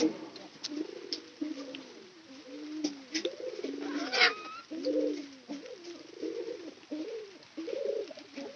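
Pigeons cooing in a loft where hens are laying, a steady run of repeated low throaty coos across the whole stretch, fairly close, with a brief sharper call in the middle.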